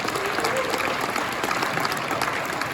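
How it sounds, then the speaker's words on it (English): Audience at a political event in East Idaho claps in a dense, steady burst of applause, filling the short moment evenly without any speech on top. "I'd like to give a round of applause for this whole event"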